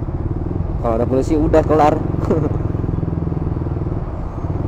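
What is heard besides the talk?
motorcycle riding with standard exhaust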